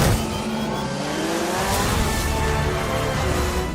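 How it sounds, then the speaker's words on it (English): A Corvette C8 race car overtakes in the racing game Project Cars 3, its engine revving high and loud with a steady, buzzing roar and rising pitch, close and continuous with no talking. "check out this mad Corvette overtake"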